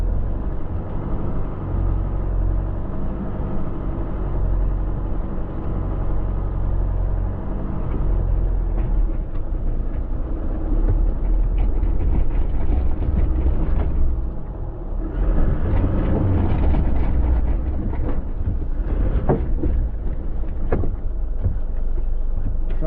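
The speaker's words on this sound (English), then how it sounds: "We're straight up into 4-wheel drive and on the angle" A four-wheel-drive vehicle crawls up a steep off-road slope, engine rumbling steadily and swelling near the end with crunching, clattering bursts of strain and terrain noise.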